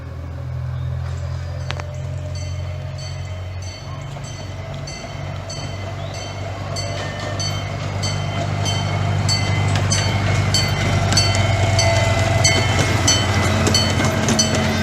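A train passes on rails with a steady low rumble and repeated wheel clicks over rail joints, growing louder toward the end, heard without talk.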